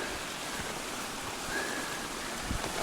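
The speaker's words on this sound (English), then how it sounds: "Look at this waterfall." Waterfall in a flowery mountain meadow on the Timberline Trail, a steady soft rushing wash of falling water at moderate distance, faint and continuous.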